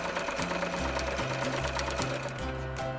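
A sewing machine stitches doll clothing in a steady, close, loud mechanical whir with a rapid needle chatter that holds for the whole stretch, with no talking.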